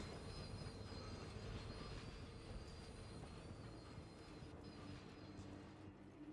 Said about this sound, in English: So I think that noise is the train.